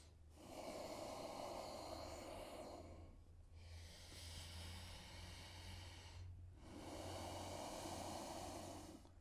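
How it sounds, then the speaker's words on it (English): Deep, slow breaths during a vinyasa yoga flow, three long airy inhales and exhales close to the microphone, rushing and hissy with short quiet gaps between them. "Deep breathing."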